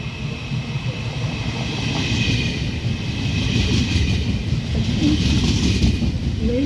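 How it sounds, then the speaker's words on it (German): The Railjet 596 pulls into a station with a steady low rumble and rolling rail noise that swells slightly as it comes in, with faint squeals toward the end. "Railjet 596 nach Klagenfurt Hauptbahnhof über Schwarzach St. Veit und Villach Hauptbahnhof fährt ein."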